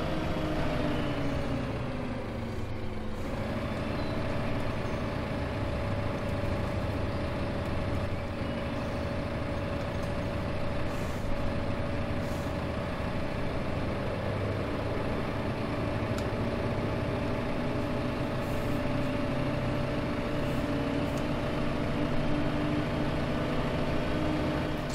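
A truck towing a trailer in Farming Simulator 2015 drones steadily throughout, its engine hum constant and close, with a slight pitch dip early on and no talk over it.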